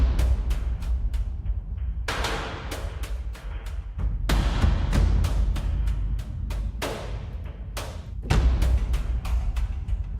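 A percussion loop built in Heavyocity Damage 2's loop designer pounds out heavy, punchy hits in a driving, syncopated pattern, loud and dense with booming low end and bright transient cracks.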